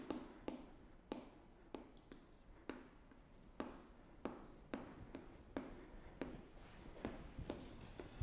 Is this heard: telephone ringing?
no